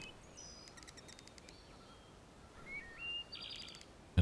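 Birds singing in the cozy cabin-building video game Log Away, a scatter of bright chirps and short whistled calls over a soft ambient hush, fairly quiet and close.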